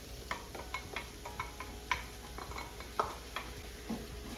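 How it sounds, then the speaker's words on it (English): Gentle sizzle of a liquid mixture in a hot skillet, stirred with irregular light clinks and scrapes of a utensil against the pan, soft and close, no voices. "We're going to go ahead and add this mixture here."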